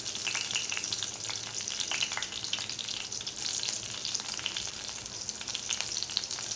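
Mustard seeds, a pinch of asafoetida and curry leaves sizzle and crackle steadily in a hot frying pan, a dense, close hiss with scattered sharp pops and no talking.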